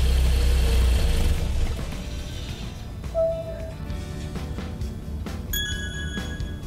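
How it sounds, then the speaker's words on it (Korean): A Hyundai car engine idles loudly at first, then cuts off and fades to near quiet, followed by a short electronic beep and a few chime-like tones. "시동을 꺼보겠습니다."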